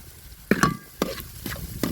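Chopped onions and five green chilies, salted, sizzle in a pan for vegetable cutlets while a spoon stirs them in four short, scraping strokes spaced about half a second apart, close and moderately loud.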